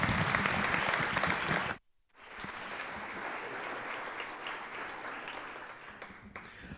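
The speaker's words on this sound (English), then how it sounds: "Can you give him a round of applause?" Audience applause closes a forum conversation about college sports: a steady wash of clapping breaks off abruptly for a moment, then picks up again and continues evenly.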